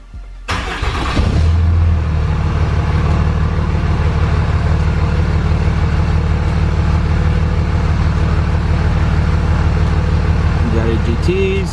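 A Cummins diesel engine fitted with an aftermarket exhaust manifold cranks briefly and fires up, then settles into a loud, steady, rumbling idle that runs close by throughout, with a faint voice near the end.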